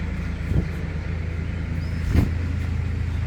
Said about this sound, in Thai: เอาเสียงรถพี่นนท์ครับ